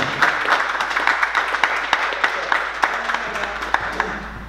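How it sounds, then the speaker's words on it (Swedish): An indoor crowd at a school scholarship ceremony claps steadily for a pupil, a dense, lively patter of many hands with a few brief cheers mixed in. "Applåder och jubel också för Hannes Edvardsson."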